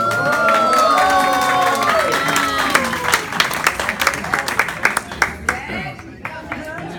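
An audience applauds and cheers for an honoree at a farewell celebration. Voices and shouts come first, then they give way to a run of loud, sharp claps that thins out toward the end.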